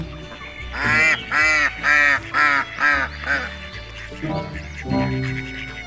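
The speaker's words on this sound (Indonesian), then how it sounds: "Ini bebek." A duck quacks in a series of six loud, nasal calls close by, evenly spaced, followed by a few softer, lower calls.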